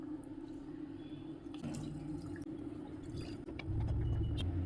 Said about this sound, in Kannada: ಇದಕ್ಕೆ ಸ್ವಲ್ಪ ನೀರು ಹಾಕಿ ಅದನ್ನು ಅಲ್ಲಾಡಿಸಿ ಅದರೊಳಗಡೆ ಹಾಕ್ತಾ ಇದ್ದೀನಿ.